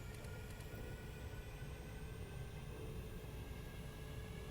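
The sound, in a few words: aircraft engine throttling up in Stormworks video game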